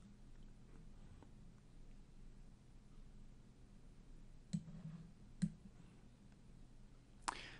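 A computer mouse gives a few sharp, isolated clicks against a quiet room hush, about three distinct taps spaced a second or two apart.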